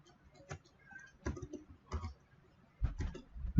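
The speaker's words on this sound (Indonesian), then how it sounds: "Ketik di sini, ketik nama" A name is typed on a computer keyboard in a few scattered clusters of soft clicks, close and fairly quiet, separated by short silences.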